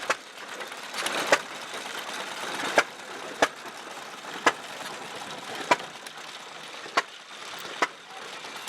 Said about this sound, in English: we're mixing the concrete to use for our 1923 concrete block machine